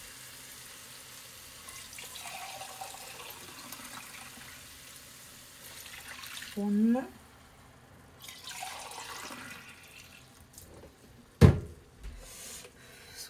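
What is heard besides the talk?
pouring mutton cooking water into the pot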